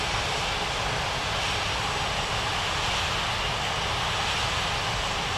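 Steady, loud jet aircraft engine roar from an airliner taxiing in an air traffic control video game, a continuous broadband rumble-hiss with no variation or voices.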